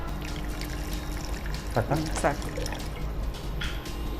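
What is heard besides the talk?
water poured into mixer jar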